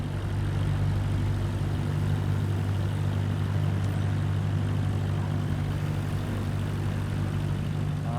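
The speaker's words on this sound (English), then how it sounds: "We're finally taking off from an actual runway." Steady propeller aircraft engine drone from a plane rolling for takeoff on a paved runway in Microsoft Flight Simulator 2024, a constant low hum throughout at moderate volume with no speech.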